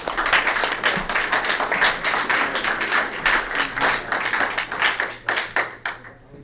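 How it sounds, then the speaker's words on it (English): A small group claps at a Scout court of honor, with individual hand claps distinct, steady for several seconds before thinning out near the end. "another round of applause"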